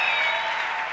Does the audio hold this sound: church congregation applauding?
yes